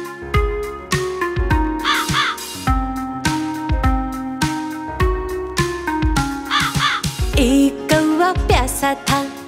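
A crow caws repeatedly in an animated Hindi rhyme, loud close harsh calls in quick bursts set over bright, rhythmic music.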